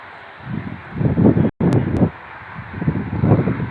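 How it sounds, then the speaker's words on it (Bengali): Strong wind blows outdoors across grass and leaves near an airfield where a Boeing aircraft is flying, producing gusty rumbling buffets on the microphone that rise and fall, with a brief dropout midway. "অনেক বাতাস আমাদের এখানে দেখেন"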